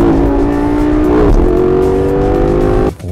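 A car engine revving in the Need for Speed Most Wanted video game, a loud steady drone that rises in pitch midway and then holds, cutting off abruptly near the end.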